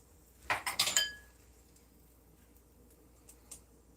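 Spoon or utensil clinking against a pot while stirring cooking beans for brunch tacos, a quick burst of four or five metallic clinks, then a faint tap or two after a pause, fairly close with no talk.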